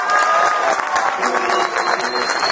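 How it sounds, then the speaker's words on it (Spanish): Audience applause for a trumpeter at a jazz club in Medellín, a steady wash of clapping from a small crowd, close and continuous, with some talk mixed underneath. "un aplauso para él, por favor"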